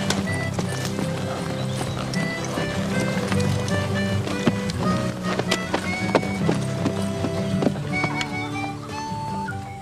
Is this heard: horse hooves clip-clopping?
yes